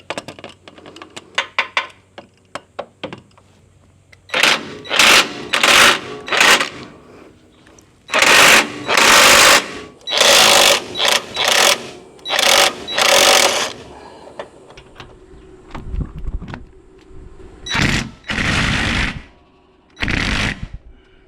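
A power tool removes 21 mm nuts on a Ford F-150 during a base plate install, several loud close bursts of rattling whirring separated by pauses, with quieter clicks and handling noises between.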